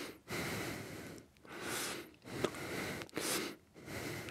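Slow, deep breaths during a mudra class, each long airy inhale and exhale swelling and fading in a steady cycle of about four breaths, close and fairly soft with no talking over it.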